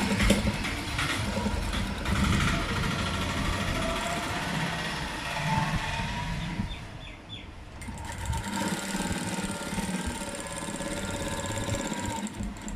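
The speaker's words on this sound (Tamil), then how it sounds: "இங்கேயும் நம்ம 1/2 இன்ச்சு தான் தைக்க போகிறோம்." A sewing machine stitches a half-inch seam on an underskirt, giving a continuous mechanical whir with one short pause and a slight change in pitch partway through.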